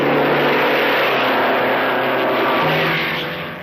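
An Alfa Romeo Grand Prix racing car runs at a steady, loud engine drone, a sustained low hum with broadband road and wind noise that fades slightly near the end, with no voices.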